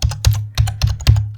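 Python code typed on a computer keyboard: quick clusters of crisp, close key clicks, around a dozen strokes in uneven bursts with short pauses.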